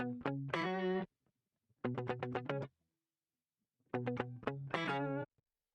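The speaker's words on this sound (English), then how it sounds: "For the guitar part in this track, I used a sample from Splice." A funky guitar sample, slightly modified to fit a dance beat, plays three short bursts of choppy, rhythmic strummed chords with effects processing, separated by silent gaps.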